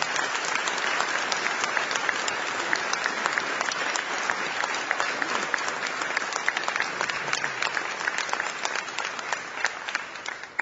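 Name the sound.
audience applause at signing day luncheon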